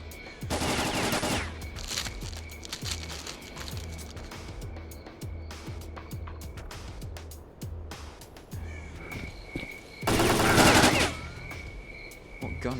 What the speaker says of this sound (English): What gun is that? It's a scary sounding weapon.